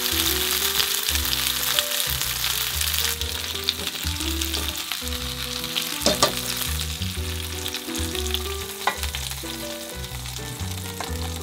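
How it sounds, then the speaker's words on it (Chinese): Pork-wrapped enoki mushroom rolls slowly pan-frying over low heat give a steady, unbroken sizzle and crackle throughout, with soft background music playing underneath. "因为中间的金针菇还蛮多的，可以用小火慢慢煎。"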